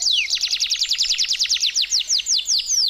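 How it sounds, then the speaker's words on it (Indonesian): A caged canary hung in a tree in a village trills a rapid, bright run of repeated whistled notes, loud and close, slowing slightly toward the end. "Ternyata kenari itu bersuara merdu."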